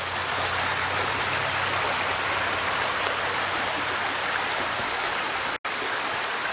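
Flowing water of a creek in a Pennsylvania state forest rushes steadily and loudly nearby, a continuous broad hiss with a brief cut near the end.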